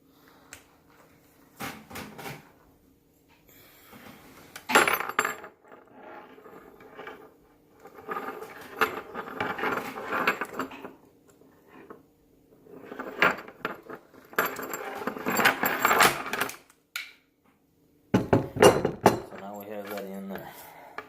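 Metal parts of a coyote snare being handled: clinking and jangling in several bursts across the clip, with a metal nut dropping onto the floor, plus scattered talk between the bursts.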